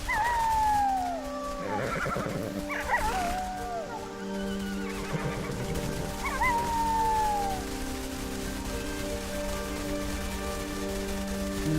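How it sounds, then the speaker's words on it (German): A grey wolf in the video game Everything lets out several long, rising and falling howls, with wavering yips and overlapping cries layered over a steady low game drone. "Grey Wolf."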